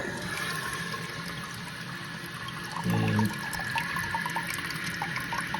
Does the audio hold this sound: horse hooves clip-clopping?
no